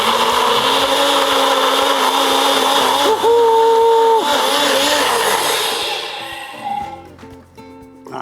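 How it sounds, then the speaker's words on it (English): A blender purees onions and garlic for chilli, running with a loud, steady high whir that shifts pitch as the blades bite, then winds down and stops, leaving clatter and a voice. "all I'm going to do is to blitz it up"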